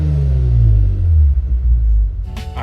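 A Lexus IS300 with an aftermarket throttle controller set to Sport Plus accelerates, its engine giving a loud, close, low rumble that rises in pitch and then eases off near the end.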